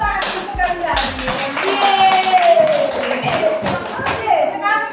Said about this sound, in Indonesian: Bagus, tepuk tangan sekali lagi.